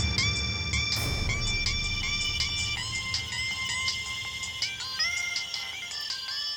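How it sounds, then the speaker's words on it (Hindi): A phone ringtone plays a repeating melodic electronic tune of short bright beeping notes, loud and continuous over a low background rumble. "ये किस बुड़बक का फोन टुनटुना रहा रे?"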